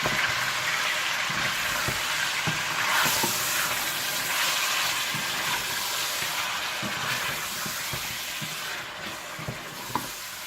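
Mutton with ginger and garlic fries in ghee for a korma, giving a broad, even hiss and sizzle that carries throughout, with occasional soft knocks and a small clink near the end.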